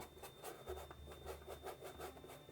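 A soft but slightly stiff rough brush rubbing paint onto canvas, close and quiet, in a steady back-and-forth rhythm of about two strokes per second.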